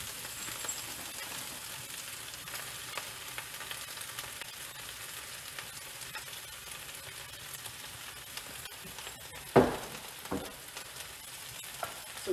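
Escarole leaves and garlic frying in a pan, a soft steady sizzle with faint scraping as the greens are moved around, quiet and close, ending with a couple of sharper clinks.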